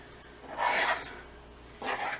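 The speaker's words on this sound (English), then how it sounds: "Scrape it all out first because we need all the tahini." A spoon scrapes and stirs thick tahini for chocolate almond halva, heard as two short, close rasping bursts with a quiet pause between them.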